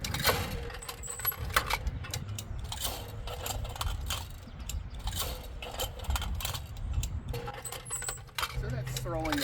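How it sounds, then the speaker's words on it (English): A Lincoln clay target thrower runs through its cycle, launching chandelle targets with repeated sharp mechanical clacks and rattles over steady outdoor background noise, fairly close. "we'll go ahead and just launch a few targets"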